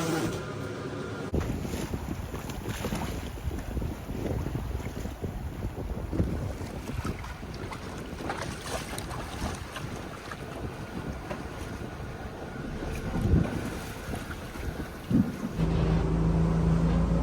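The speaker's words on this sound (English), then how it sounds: "It's a little crazy and a little windy out there." Strong wind buffets the microphone on open ocean water off Alaska, with waves and a boat's hull sloshing underneath; the gusts rise and fall throughout.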